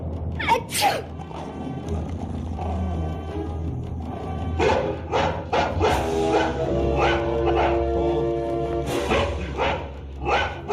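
A dog in a horror film barks and yelps in sharp bursts over a low rumbling soundtrack, with whimpering and growling between the barks and a final loud yip.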